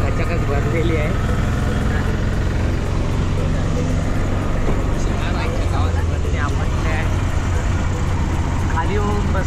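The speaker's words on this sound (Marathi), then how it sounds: "आपण चाललोय रिक्षातून प्रसादाच्या मंदिराकडे." A packed auto rickshaw riding through Shirdi, its engine droning steadily with road rumble and rattling, while passengers talk over it.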